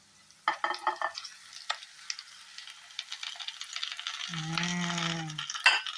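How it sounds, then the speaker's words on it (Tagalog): Pork belly is added to a braising stew and stirred, with soft scraping and clinking of a utensil against the pot and a low sizzle, some brief tonal clatter partway through. "we add the pork belly to"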